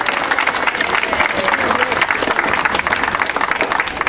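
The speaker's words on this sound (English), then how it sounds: "Give her a round of applause." Applause at a library opening, a steady wash of clapping from a gathered crowd with some cheering and voices mixed in, holding at an even level throughout.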